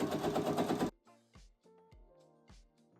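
A sewing machine topstitches the facing of a Burda Easy dress, running in a dense, steady burst for under a second before stopping, followed by a few light clicks and taps.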